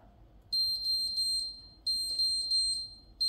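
A Cake Factory cake maker sounds its done signal: short high electronic beeps in quick groups of four, clear and close over a quiet room hum, repeating twice with a pause between.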